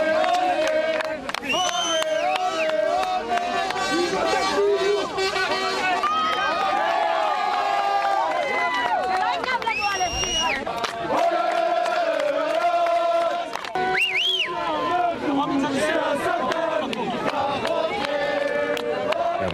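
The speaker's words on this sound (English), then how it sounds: "We understand this crowd gathered just outside the courthouse to support the Israeli soldier ahead of the verdict." A dense crowd rallies just outside a courthouse in support of an Israeli soldier ahead of his verdict, many voices chanting and shouting together in a loud, continuous swell with rising cries and whoops.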